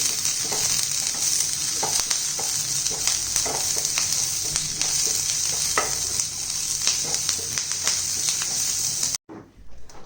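Curry leaves hit hot oil in a frying pan for restaurant-style mutton pepper liver fry, crackling and sizzling loudly and continuously, with stirring clatter, before the sound cuts off abruptly at the end.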